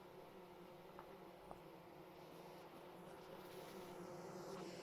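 Bees in the survival game Vintage Story, a faint steady insect buzz under a low ambient hum, with a couple of soft ticks.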